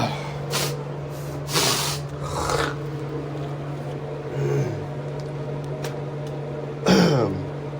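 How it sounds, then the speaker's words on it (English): Several short, harsh coughs spread across the clip, with a loud one near the end, over a steady low electrical hum. "No sneezes yet, just coughs."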